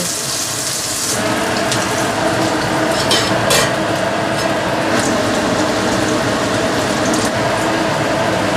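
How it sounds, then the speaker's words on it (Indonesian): Thick salmon fillet frying in a pan until fairly dry, a steady close sizzle and crackle running throughout with a few brief sharper spatters, no voices. "Ini ikan salmonnya mau tak goreng agak kering"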